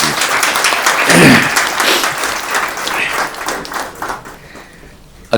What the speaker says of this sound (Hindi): हम सब उनको बहुत अच्छी तरह से बधाई दें, तालियां बजाकर दे सकते हैं तो और भी।